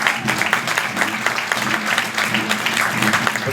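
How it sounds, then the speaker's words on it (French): A live audience at a book presentation on Walloon folk marches applauds steadily, with dense clapping throughout and a few voices murmuring underneath. "Allez, on les applaudit encore."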